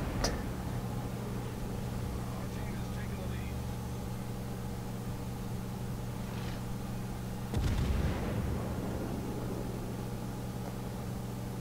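Warship guns fire in the World of Warships video game: a heavy boom rolls out near the middle over a steady engine drone, fainter blasts come earlier, and a voice talks throughout.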